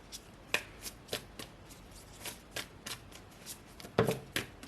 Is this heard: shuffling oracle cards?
yes